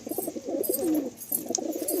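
Pigeons in a loft in Kolkata cooing in soft, rolling murmurs that swell and pause, close and steady over a faint high background hiss, with no talk.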